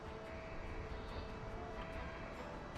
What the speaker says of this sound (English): We can outrun most of these planes,